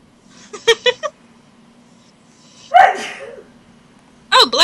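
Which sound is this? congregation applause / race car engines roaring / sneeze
sneeze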